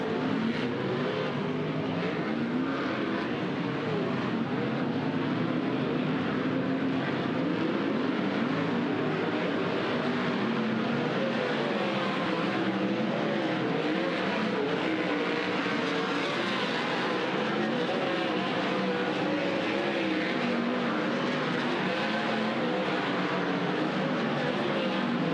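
Sprint cars at the Douglas County Dirt Track roar continuously around the dirt oval during a Kubota High Limit race. A dense, sustained engine howl stays loud and steady throughout, with slight rising and falling waves as cars pass.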